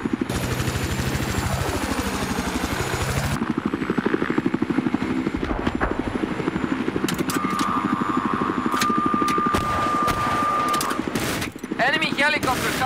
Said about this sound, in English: Helicopter coming in, over.